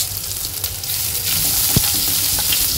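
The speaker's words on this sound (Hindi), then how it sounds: "इसमें डाला है थोड़ा सा कुकिंग ऑयल, अब इसमें हम डाल देंगे तेज पत्ता, साबुत हरी मिर्च, ग्रेट किया हुआ अदरक," Bay leaf, whole green chillies, grated ginger, asafoetida and cumin sizzle loudly in hot cooking oil for restaurant-style dry masala chole, a continuous crackling fry with a few sharp pops close by and no talk.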